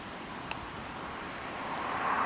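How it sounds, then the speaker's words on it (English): Ocean waves rolling onto an Outer Banks beach at S-Turns near Mirlo Beach, a steady hiss of surf with wind buffeting the microphone, swelling louder toward the end, with one brief tick near the start. "But you can hear the waves"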